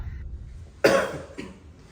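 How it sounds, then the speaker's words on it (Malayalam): A single sharp child's cough, close and sudden, with a faint second cough after, over a quiet low hum. "എന്ന് വെച്ചാൽ ഇങ്ങനെ ചുമക്കും"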